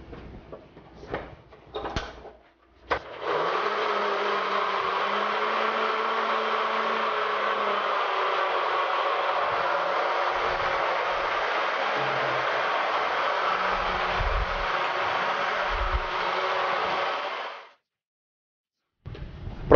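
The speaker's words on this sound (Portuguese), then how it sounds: "E bater tudo isso aqui no liquidificador," A kitchen blender whirs steadily for about fifteen seconds, mixing citric acid and water into syrup for popsicles, with a loud sustained motor drone and a short quiet lead-in of handling clicks before it stops abruptly.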